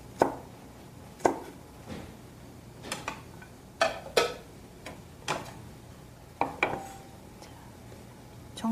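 Knife chopping a green bell pepper into roughly 1.8 cm pieces on a cutting board while preparing chicken à la king, heard as sharp, irregular close taps spaced a second or so apart, with no talk.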